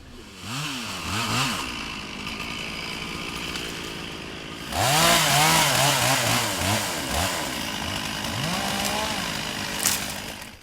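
Chainsaws cut trees during the eviction of a Bexhill-to-Hastings road protest camp, their engines revving up and dropping back repeatedly, loud and close, with a second burst of revving midway.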